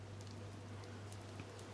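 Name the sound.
heavy rain sound effect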